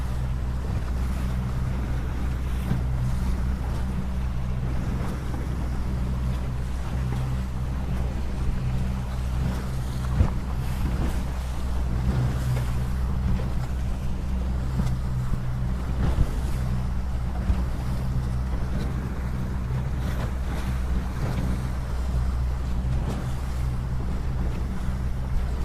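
Wind and waves at an ILCA 6 dinghy sailing race in open sea, a steady, loud rush of wind noise and surf filling the whole stretch with a constant low rumble and no talking.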